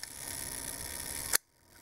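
A 1955 Leica M3 double-stroke rangefinder camera fires its shutter at a 1-second speed: a steady mechanical whir runs for over a second, then ends in a sharp click, followed by near silence.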